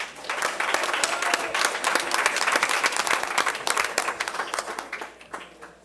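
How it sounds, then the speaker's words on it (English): Audience applause after thanks to sponsors at the KidSpeak 2017 community event: a dense, steady burst of many hands clapping that holds strong for about five seconds before thinning out, with a few voices mixed in. "Please give all of our sponsors a loud round of applause."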